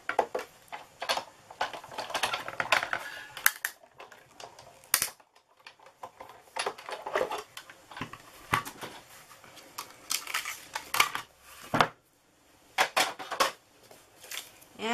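Paper and a framelit die being cranked through a die-cutting machine while making a pinwheel treat box, giving close, uneven clicking, crinkling and crunching sounds with short pauses between bursts.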